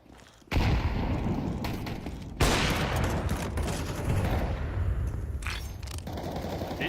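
Sustained automatic gunfire from a Counter-Strike style tournament match, dense overlapping bursts that roll continuously with sharp louder onsets, plus a faint voice underneath.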